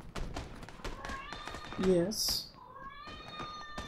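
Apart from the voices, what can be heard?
cat meowing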